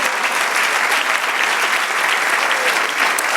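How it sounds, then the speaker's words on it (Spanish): Congregation applause at a Spanish-language church sermon, a dense, steady wash of clapping that stays loud and even for a few seconds with no voices over it. "Dale un aplauso, Señor."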